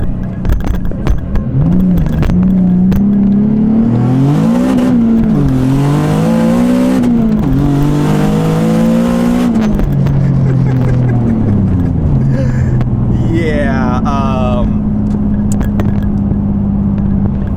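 A single-turbo Nissan 370Z making about 680 wheel horsepower accelerates hard through the gears, its engine roaring loud and close, rising in pitch, dropping at each shift, then climbing again.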